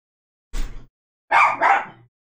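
A dog barks close by, one short bark followed after a pause by a louder double bark, with silence around the barks.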